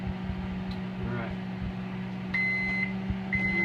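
A microwave oven heating an empty bowl hums steadily, then gives two short, high beeps close together as the cycle ends.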